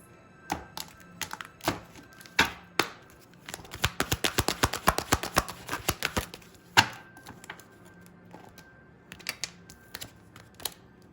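Tarot cards are shuffled, with soft taps and knocks, then a rapid fluttering riffle of snapping cards before more scattered taps. No one speaks.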